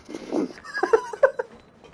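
A cat meowing in a video game, a short, close, clear mewing call with several quick rising and falling pitched syllables, heard alone against a quiet background.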